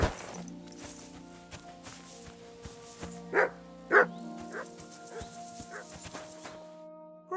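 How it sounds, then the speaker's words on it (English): In the medieval video game Kingdom Come: Deliverance 2, a dog gives two sharp, clear barks about half a second apart, with a few softer yips and scuffs over a sustained, tonal game soundtrack. "Good doggy, good boy."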